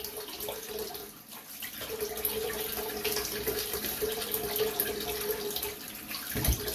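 Water runs from a tap to wet a head before shaving, a steady close splashing stream that keeps flowing with small bursts and shifts, ending in a louder clunk.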